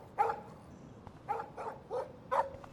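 A dog in the video game Life is Strange barks in short sharp yips, about five separate barks spread irregularly over a quiet background.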